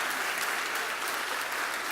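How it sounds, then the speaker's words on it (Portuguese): Church congregation applauding the fathers present, a dense, even wash of many hands clapping together at moderate volume, unbroken across two seconds with no talking. "Eu queria que nós como igreja pudéssemos, nesse momento, poder aplaudir a cada um dos pais presentes"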